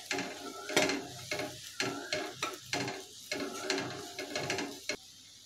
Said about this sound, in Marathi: कमी गॅसवरतीच 2 मिनिट हा मसाला परतून घेऊया।